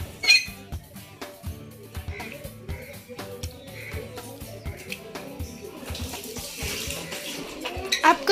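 Water runs from a household tap, a continuous splashing flow with small clatters and squeaks of dishes or a bucket, moderately close and steady without speech over it.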